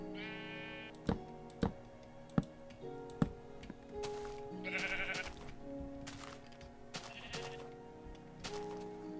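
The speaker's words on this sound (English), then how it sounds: "caught myself a sheep" Electronic sheep bleats from Minecraft repeat several times, mixed with sharp ticking clicks and short game-like tones, no speech.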